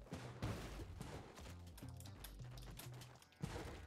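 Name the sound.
bomb explosion in the video game Spelunky 2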